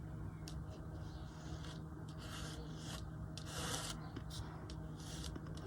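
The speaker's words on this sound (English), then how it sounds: "I'll just put that down and then scrape it off." Thick gesso is scraped across a thin stencil in a run of short, dry rasping strokes, fairly quiet and close, with brief pauses between passes and no talking.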